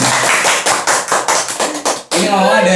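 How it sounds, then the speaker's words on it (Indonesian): Several people clap in a short, loud burst of about a dozen sharp claps, then it cuts into a denser, sustained applause wash with a faint tonal hum underneath. "tepuk tangan."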